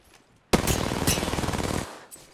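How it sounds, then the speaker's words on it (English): Sustained automatic gunfire bursts out at close range in the Apex Legends shooter: a rapid, evenly spaced string of loud shots for about 1.3 seconds, then a couple of faint follow-up sounds. "Opening fire."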